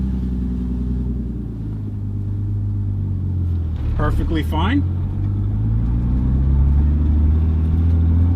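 A Toyota Supra with about 200,000 miles, a limited-slip rear differential and a clutch-type setup, rumbles steadily as it accelerates in first gear, its engine drone held up close throughout while someone talks over it.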